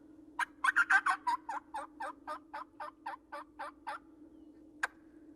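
A man imitates a wild turkey hen with a mouth diaphragm call in Louisiana: a fast series of about fifteen raspy yelps, loudest at the start then tapering, with one final isolated note after a pause.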